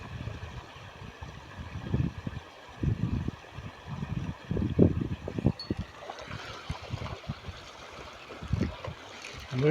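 A small waterfall runs beside a lake in a park, with a faint steady trickle of falling water and irregular splashing pulses close by, and no talk.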